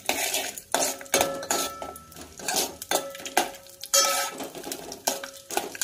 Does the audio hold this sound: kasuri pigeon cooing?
no